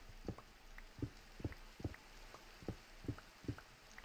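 Rain in the Minecraft video game falls as a steady, faint hiss with regularly spaced soft droplet patters, quiet and even, with no voices.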